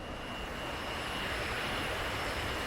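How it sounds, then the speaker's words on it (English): A jet taxiing on the ground in the DCS World flight simulator, set at an airfield in Georgia's Caucasus region, a steady, even engine roar with a faint high whine, unbroken and without speech. "while we're taxiing"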